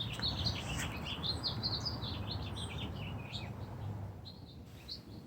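Small birds chirp in a garden beside a potted hydrangea, a busy overlapping chorus of high tweets over a soft, steady outdoor hiss. The calls thin out toward the end.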